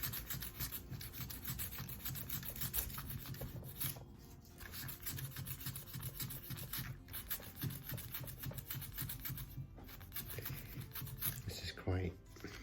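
Fine-grit sandpaper, roughly 500, rubs back and forth over a Ducati 750S starter motor in steady, soft rasping strokes with a few brief pauses, quiet and close.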